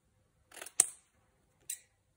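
Permanent adhesive vinyl is cut by hand with an X-Acto knife, giving a few short, close, crisp slicing snips with brief pauses between them.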